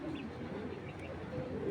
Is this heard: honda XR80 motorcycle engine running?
no